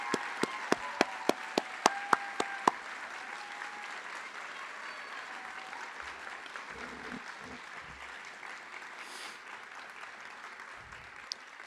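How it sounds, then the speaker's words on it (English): Audience at an awards evening applauding event organizers: a few sharp individual claps at first, then a sustained crowd applause with faint voices beneath. "Can we give a round of applause to the folks who put this on?"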